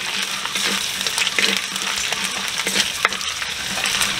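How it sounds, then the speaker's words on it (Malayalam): Ginger garlic paste frying in a pan for a mutton roast, stirred with a spoon throughout, giving a continuous close sizzle broken by frequent scraping and clinking strokes, with no talk. "ഇതിൻ്റെ പച്ചമണം മാറി നേരം ഒന്ന് ഇളക്കി കൊടുക്കണം."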